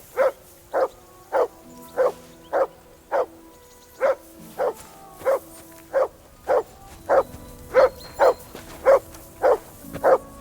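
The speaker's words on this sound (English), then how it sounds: "That dog of yours is barking like the devil." A dog barks over and over in the video game Kingdom Come: Deliverance II, with about seventeen evenly spaced, sharp barks that are fairly close and loud, a quiet ambient bed underneath and no talking.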